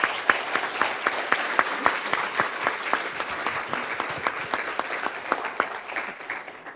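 An audience at a citizens' assembly livestream claps steadily, a dense round of applause with sharp individual claps that tapers off toward the end.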